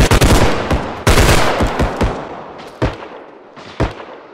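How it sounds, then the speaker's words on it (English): Rapid bursts of automatic gunfire crackle in a video game firefight in open woodland, dense volleys at first, then a few sharper isolated shots trailing off. "They're shooting down here."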